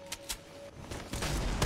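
Gunfire from a weapon in a video game: a few sharp, loud bursts crack out in quick, irregular succession over a busy, noisy game background.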